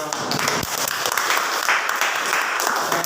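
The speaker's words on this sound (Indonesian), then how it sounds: "Tepuk tangan pada" Students applaud in a classroom at the close of a group presentation lesson, a steady, dense clatter of many hands lasting throughout at even loudness.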